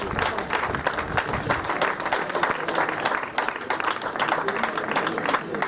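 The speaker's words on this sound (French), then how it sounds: "Et vous allez applaudir comme il se doit" An audience at the final podium ceremony of the Tour des Landes 2023 cycling race bursts into dense, sustained applause, many hands clapping close and loud for the whole stretch with no clear speech.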